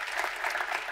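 Steady applause from a crowd, clapping densely and evenly throughout, with no voices standing out.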